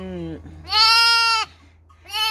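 An orphaned lamb bleats loudly and close by, with one long wavering bleat in the middle, a shorter cry before it and another starting at the end.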